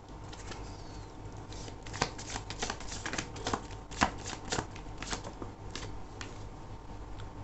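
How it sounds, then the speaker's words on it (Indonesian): Tarot cards are shuffled and drawn from the deck, giving a quiet run of crisp riffling flicks and snaps, alone with no talk. "Kita akan ambil satu kartu lagi ya."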